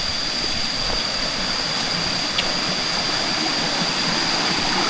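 A stream on a mountain hiking trail rushes in a steady, loud, broadband wash that holds constant throughout, with no voices over it.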